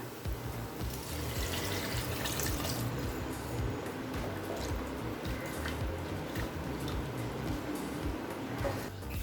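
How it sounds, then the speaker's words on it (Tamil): Two cups of water are added to a pot of masala rice after the chili powder has been sautéed, making a steady, close watery splash and rush that runs for several seconds with no talking. "இது கூடவே 2 கப் தண்ணி சேர்த்துக்கலாம்."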